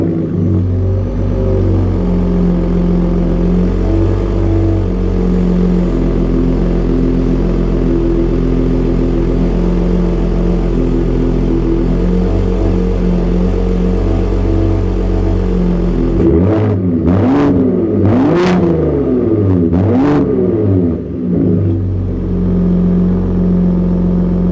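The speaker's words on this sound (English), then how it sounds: "the exhaust sounds pretty damn aggressive for this to be a V6" A 2022 Ford F-150 Raptor's V6 idles with a steady low exhaust rumble, then several sharp throttle blips rise and fall in a row, close and loud.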